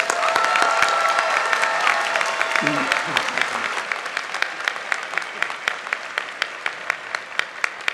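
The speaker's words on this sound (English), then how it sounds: "More round of applause for our master's graduates." Commencement audience applauding master's graduates at a college of fine arts ceremony, dense clapping that thins into scattered separate claps toward the end, with brief talk in the crowd early on.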